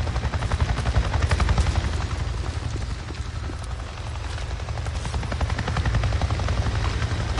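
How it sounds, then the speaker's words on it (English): Inside the video game Days Gone, a helicopter thuds overhead as a steady loud rotor chop with a dense low rumble that carries for several seconds, with no voices. "I just saw a goddamn chopper!"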